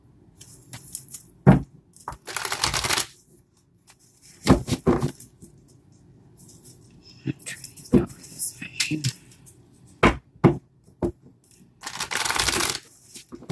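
Tarot card shuffling up close: several short bursts of riffling and bridging, separated by quiet pauses, crisp and papery.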